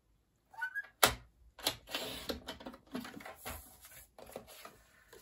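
Patterned designer paper for a handmade card is trimmed down, giving close, dry snips and scraping cuts in uneven bursts with short pauses between them, fairly quiet and without speech.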